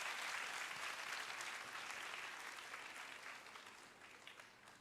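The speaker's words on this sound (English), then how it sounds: "give her a big round of applause" Round of applause from an audience at a national symposium, fairly faint and distant, a dense even patter of clapping that gradually tapers off toward the end.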